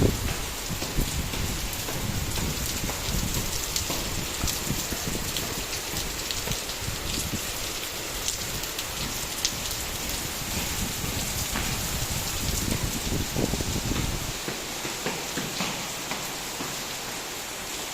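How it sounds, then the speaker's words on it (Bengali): Heavy rain pours steadily and close by, a dense continuous hiss of drops on surfaces with no break, loud throughout and no voices. "বৃষ্টি তো থামার নাম নিতেছে না মা, বৃষ্টি তো থামতেছেই না"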